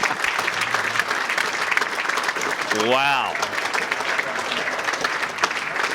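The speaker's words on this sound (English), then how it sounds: "Everyone's huge applause." Spectators at a real tennis world championship give a sustained round of applause, steady and fairly close, while a voice briefly exclaims midway through.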